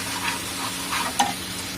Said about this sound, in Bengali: কাজু মৌরি সর্ষে দিয়ে এটা হালকা কষে নেব